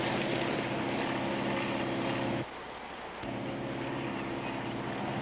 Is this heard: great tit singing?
no